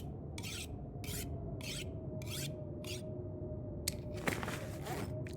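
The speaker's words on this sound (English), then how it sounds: "Sharpen the axe," An axe blade is sharpened in The Long Dark, a video game: six even rasping strokes of file on steel in a regular rhythm, followed by a sharp clank and a final rougher scrape over a low steady hum.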